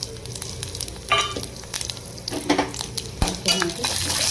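Mustard seeds, split lentils, cumin and dried red chillies crackling in hot oil for a tempering, with irregular sharp pops and bursts over a low sizzle, plus occasional clinks of a spoon against the pan.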